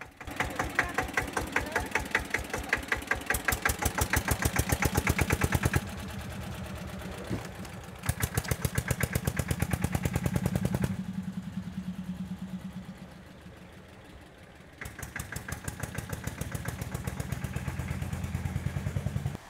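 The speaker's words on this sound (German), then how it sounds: "startete endlich den Traktor" A tractor engine, driven by a family on a journey from Filderstadt to Norderney, starts up and chugs with a close, rhythmic knocking idle. It falls quieter for a few seconds in between, then returns to a steady clatter.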